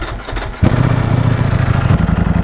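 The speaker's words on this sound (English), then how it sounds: "let's start the bike and get up out of here" A Ducati V4S motorcycle engine starts with a short crank, then catches abruptly and settles into a loud, steady, throbbing idle close by, with no talking.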